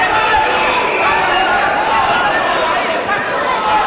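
A boxing-arena crowd at the 1993 Cristanto Espana vs Rodolfo Aguilar fight roars and cheers in a continuous, dense wash of noise, with a commentator's voice running over it.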